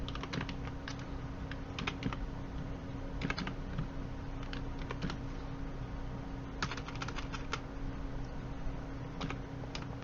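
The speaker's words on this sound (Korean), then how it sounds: "탭키를 눌러야 되겠죠." Keys clatter on a computer keyboard in irregular bursts of quick taps while entering data into an Excel spreadsheet, close and clear over a low steady hum.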